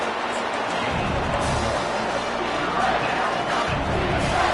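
Dense, continuous stadium crowd roar from the NCAA 25 college football video game, swelling slightly as fans rally the defense for a red zone stop, with a faint commentator voice underneath.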